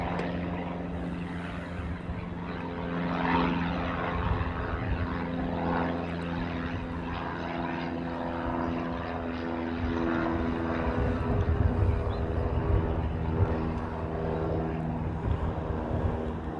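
An Airbus A380 Flying Honu airliner arrives at Honolulu airport, a steady, distant jet drone with droning engine tones that swells gently toward the end, heard from outdoors.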